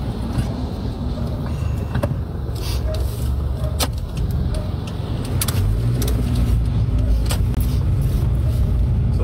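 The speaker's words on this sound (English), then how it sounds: "Expect traffic delay, and the road is wet." Morning road traffic on a wet road in Grenada, with steady engine rumble and tire hiss from passing cars and buses, punctuated by sharp clicks and knocks, fairly loud and close.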